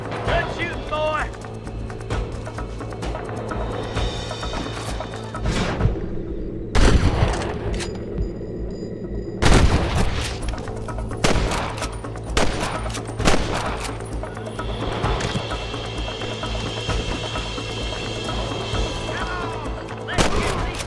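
Gunfire rings out in the Western video game Red Dead Redemption: several loud, sharp shots and booming volleys spaced across the stretch over a busy background, with character voices speaking in between.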